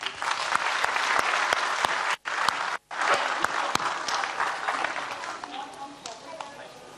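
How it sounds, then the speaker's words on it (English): An audience at a conference event applauds with loud, dense clapping that pauses briefly twice, while a voice speaks over it. "Another large round of applause, please."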